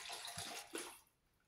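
Water for tacos is poured quickly in a kitchen, a brief splashing gush like a running tap that fades after about a second.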